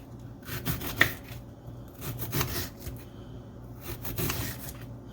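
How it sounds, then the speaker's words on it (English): A small knife cutting peppers into strips on a board, quiet, irregular chops and scraping strokes, close up with no talking. "So I'm just cutting the peppers into little strips"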